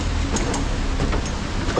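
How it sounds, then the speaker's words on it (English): Train pulling out of a station heard from nearby, a steady loud rumbling roar with faint rhythmic clacks running throughout, and no talk over it. "I wonder if that's my train leaving right now."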